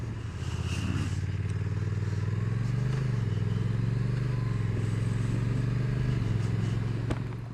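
A Honda NT1100 DCT motorcycle is ridden at a steady pace, with a smooth, continuous engine drone and a slight rise and fall in pitch, heard close with some road and wind noise.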